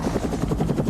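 A helicopter close by, its rotor blades thumping in a fast, loud, rhythmic beat.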